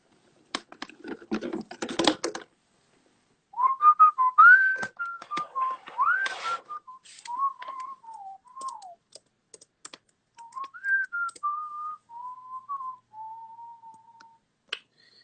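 A person whistles a wandering melodic tune up close, with the sustained notes broken up by brief pauses. It is preceded by a burst of computer keyboard typing and clicks, and more clicks come through between the phrases.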